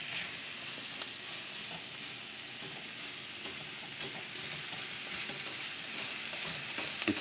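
A vegetable sizzles steadily in a frying pan, a dense close hiss scattered with small pops and crackles that carries on without a break for several seconds, with no talking.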